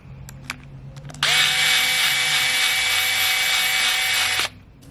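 Screws tightened on a Babyliss FX3 hair trimmer: a few small clicks come first, then a loud, steady motorized whir runs for about three seconds before cutting off abruptly.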